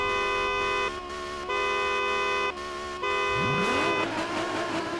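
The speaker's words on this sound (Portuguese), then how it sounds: "terceira buzinada, vai" Car horn in the Forza Horizon 4 racing game, sounding in three long steady blasts separated by short gaps, loud and close, before an engine revs up underneath and swells at the end.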